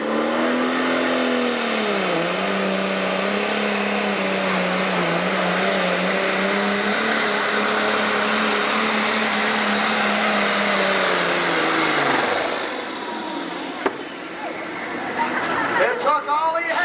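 Modified pulling tractor "Flirting with Disaster" at a 1996 Freeport, Illinois tractor pull, roaring at full power for about twelve seconds with a rising, wavering engine pitch, then winding down as it shuts off, with an announcer talking over it.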